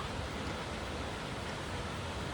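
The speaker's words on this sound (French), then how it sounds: "Et ça, c'est la cascade du Cassé." The Cascade du Cassé, a mountain waterfall in the Valgaudemar in the French Alps, gives a steady, dense roar of falling water heard alone, with no talk.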